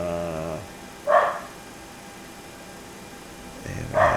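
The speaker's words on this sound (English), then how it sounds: "My dog is in the background getting a little crazy" A dog barks in another room while a small plane waits to depart, two short loud barks about three seconds apart over a steady low hum, the first after a brief humming tone.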